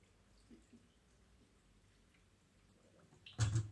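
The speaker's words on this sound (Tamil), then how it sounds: "இதில் மேலால் உள்ள தண்ணீரை ஊற்றி விடுவோம்" Water poured off the top of wheat milk soaked overnight for ash pumpkin muscat. Near silence gives way to a short, loud splashing pour at the very end.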